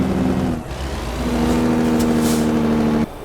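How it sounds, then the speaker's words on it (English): A heavy truck's engine brake in the American Truck Simulator video game, heard as a loud, steady low drone with a strong tonal rumble that shifts pitch near the start and cuts off near the end. "Listen to that freaking engine brake, holy cow."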